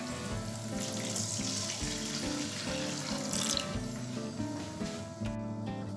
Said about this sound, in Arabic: من بعد ما تقلات ليا البصله غادي نزيد ليها واحد شويه ديال الماء سخون